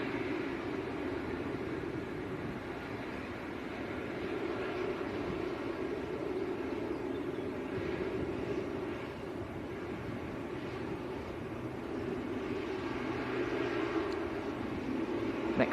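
A Boeing 777-300ER at Manchester Airport gives off a continuous distant jet roar with a low hum band, steady and moderately faint across the whole stretch, with no talk.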